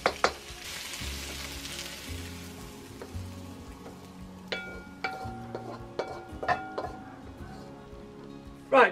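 Corn-floured pork stir-frying in hot oil in a wok for a Chinese takeaway-style pork and noodle dish. A steady, close sizzle is broken by sharp clinks and ticks, with someone talking over the cooking.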